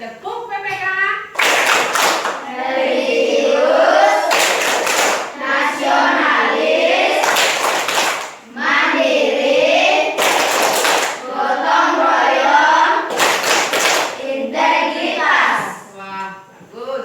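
A class of children performs the PPK clapping chant, singing in unison with loud, sharp bursts of hand claps landing between the sung phrases in a rhythmic pattern.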